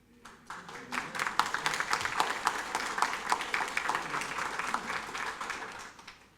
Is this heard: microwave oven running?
no